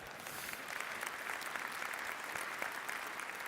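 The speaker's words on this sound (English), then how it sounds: "Give him a round of applause for that one." Steady applause from an audience at a lecture, a fairly faint but continuous rattle of many hands clapping that sounds somewhat distant and carries on for several seconds without voices.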